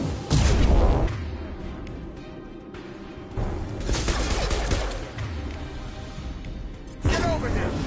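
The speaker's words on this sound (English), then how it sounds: "Firing concussive shots!" Concussive shots fired in the video game Mass Effect, a string of heavy booming blasts with rumbling tails, several loud hits spaced across the stretch over a dense background of battle noise.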